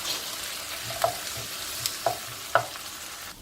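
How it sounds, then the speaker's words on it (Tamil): Soft, steady sizzling of food frying in oil, with a few sharp clinks of a spoon stirring the pan at intervals; no voices. "ஒரு மிக்ஸ் பண்ணிவிட்டு மஞ்சத்தூள் சேர்த்துட்டோம்னா தக்காளி சீக்கிரம் வதங்கிடும்"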